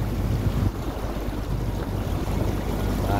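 Ferry harbour at Bungus with boats and waves, a dense rumbling wash of engine drone, water and wind buffeting the microphone, steady and loud throughout.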